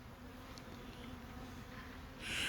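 A steady, close buzz of honey bees swarming around their hives, close to a million of them, a constant drone that swells louder near the end.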